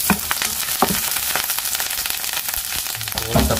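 Meat frying in a pan for a Pakistani shimla mirch (capsicum) dish, a steady loud sizzle with crackling pops throughout and a few clattering stirs, no voices.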